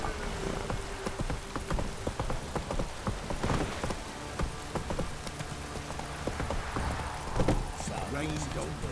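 Rain patters steadily across the landscape in The Witcher 3, a dense continuous hiss with horse hooves clopping along underneath and brief voices.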